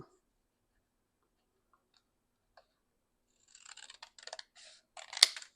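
Scissors cut through paper after a long stretch of near silence, making a close series of crisp snips and crunches that end in one sharper, louder cut.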